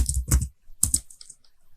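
Keystrokes on a computer keyboard while working in a terminal, two quick bursts of clacking followed by a few lighter taps, close and clear with no talking.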